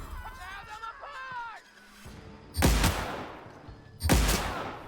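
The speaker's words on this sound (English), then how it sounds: "Running with a plasma rifle." Two sharp plasma rifle blasts from The Outer Worlds ring out loud and close, a second or so apart, each with a quick fading tail, after a stretch of humming voice and quieter game ambience.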